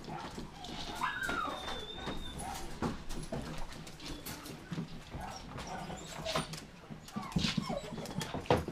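Several dogs, including a chihuahua, whimper and yip at feeding time in quick, overlapping bursts among soft shuffling and occasional quiet voices nearby.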